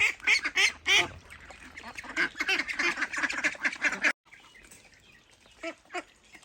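Ducks quack in a rapid, busy chorus close by, then the sound drops away to a few scattered, fainter calls.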